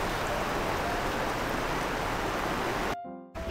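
Heavy rain pours down at a riverside campsite as a dense, steady hiss that fills the scene, then cuts off abruptly near the end.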